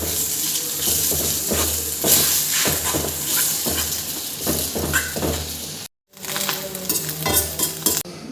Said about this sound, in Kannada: ಈರುಳ್ಳಿ ಫ್ರೈ ಆಗ್ತಾಯಿದೆ ಇವಾಗ.